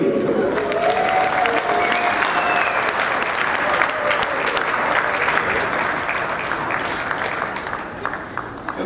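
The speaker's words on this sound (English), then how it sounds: "Everyone give a round of applause for Rudy." An outdoor crowd applauds steadily at a bird dog parade with Airedale Terrier hunting dogs, a broad, lively wash of clapping with a few voices that slowly tapers toward the end.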